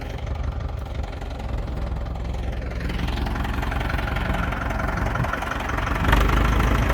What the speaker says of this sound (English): Actually our only tractor that we have so far.